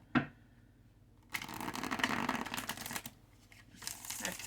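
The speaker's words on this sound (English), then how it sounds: "I'm going to shuffle this kind of a lot because this is a deck I used for pile 1" A deck of tarot cards is shuffled by hand, a quick snap first, then a longer riffling burst and a later shorter flurry, close and soft against a quiet room.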